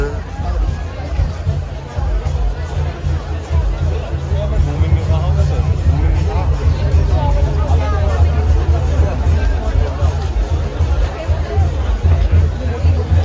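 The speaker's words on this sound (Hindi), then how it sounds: "ये देखो भाई भीड़ बहुत हो रही है बहुत ही ज़्यादा भीड़ भीड़ है" Dense crowd bustle at the Surajkund Mela fair, with continuous loud babble of many voices and general commotion filling the whole clip.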